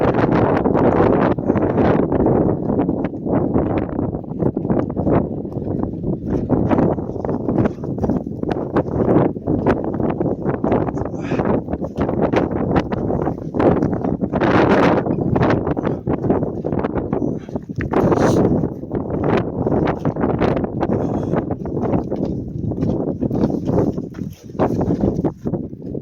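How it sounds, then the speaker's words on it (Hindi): Strong mountain wind roars continuously in heavy gusts across the microphone near snowy glacier slopes in the Hunza Valley, loud and unbroken for the whole stretch. "बहुत ही ज़्यादा जो है ना हवा चल रही है"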